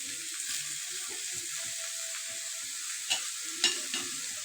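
Onions frying in a pan on a village-style kitchen stove, giving a steady soft sizzle with light stirring scrapes and a couple of sharper clinks near the end.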